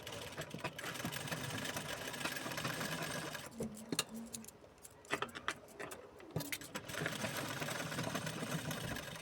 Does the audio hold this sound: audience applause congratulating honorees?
no